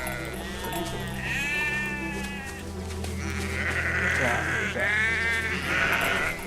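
Sheep bleat repeatedly in a flock in the video game Valiant Hearts, several wavering calls overlapping near and loud, with someone talking underneath and steady game ambience throughout.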